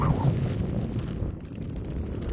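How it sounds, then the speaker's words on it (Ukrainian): Gusty wind buffeting the microphone, a low rough rumble that stays steady throughout. "Вітер повернувся."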